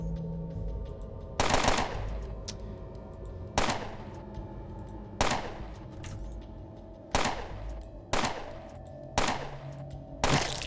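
A gun in the video game Underrail emptying a whole clip in bullet time: about seven loud, sharp bursts of rapid fire spaced a second or two apart, alone.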